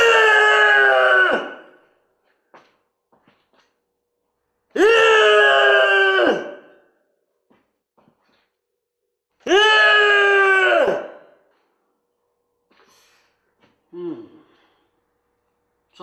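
A painter lets out three long, loud, angry screams, each lasting about a second and a half and separated by silent pauses, followed by a short fainter groan.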